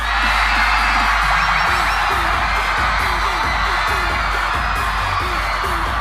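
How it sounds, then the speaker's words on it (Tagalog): A large crowd of students at Laguna State Polytechnic University shouts and cheers loudly and steadily in a dense, continuous roar, with whoops rising above it throughout. "Gusto ko marinig ang sigawan dito sa bandang kaliwa!"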